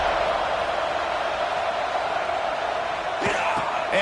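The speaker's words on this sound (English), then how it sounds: "This crowd ready to make its presence known." Roar of a college football stadium crowd at a USC vs Nebraska game, a dense continuous wash of cheering that holds level, with a few sharper shouts or bangs near the end.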